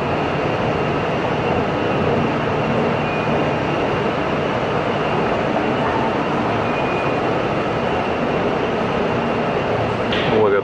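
A steady, loud rumble of a moving train to Athens airport fills the whole stretch, a constant roaring drone with a faint squeal near the end.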